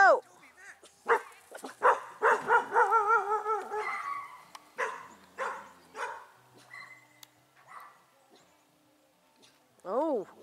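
A new puppy yips and barks in short, excited bursts at close range. Cheerful adult voices talk over and between the barks, and a final high whimpering yelp comes at the end.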